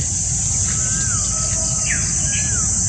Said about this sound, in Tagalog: Ang maririnig nyo lang po ay yung huni po ng ibon